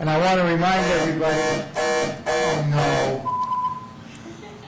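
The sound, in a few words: council meeting speaking-time alarm buzzer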